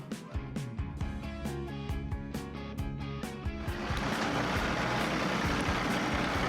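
A tractor idles and rumbles as it maneuvers into position to tow a stuck car, with rhythmic clanking knocks over a low engine drone, giving way to a louder, steadier broadband roar partway through.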